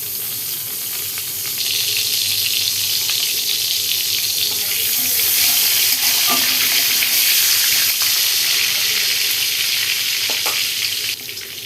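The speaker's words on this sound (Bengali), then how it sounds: "এবার একটু পাঁচফোড়ন আর একটা তেজপাতা দিয়ে দেবো" Panch phoron and a bay leaf hit hot mustard oil in a pan. A bright crackling sizzle rises after a quieter start, stays loud and even with a couple of faint clinks, then eases slightly at the end.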